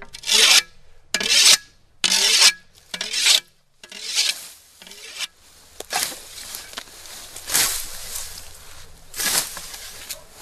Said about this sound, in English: But then you use a whetstone.